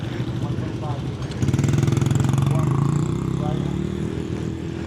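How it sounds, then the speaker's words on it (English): A small mini bike engine runs steadily nearby at an outdoor swap meet, a buzzing, pulsing idle that grows louder partway through, while people talk over it. "Driving around on a mini bike carrying an engine."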